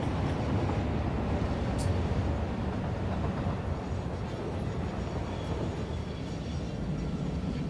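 A train in the video game Satisfactory runs past with a loud, continuous rolling rumble and a faint rail clatter, steady from start to finish with no talk.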